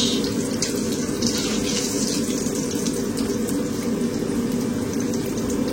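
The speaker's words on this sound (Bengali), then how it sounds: "পানি ভরছো?" Water gushes steadily from a tap, a loud, continuous rush filling a container close by, with no voices.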